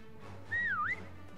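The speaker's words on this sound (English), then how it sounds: "Stop whistling!" A player in a Call of Duty WW2 prop hunt match gives a single clear, swooping whistle, dipping and rising in pitch for about half a second over quiet game ambience.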